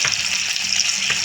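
Pieces of pointed gourd (potol), rubbed with turmeric and salt, fry in hot oil in a wok over normal heat, giving a steady, close, bright sizzle with no voices.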